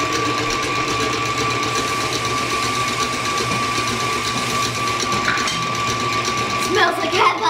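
Electric hand mixer whirring steadily through cream for a from-scratch pumpkin pie filling, a continuous close motor drone with a voice talking over it near the end.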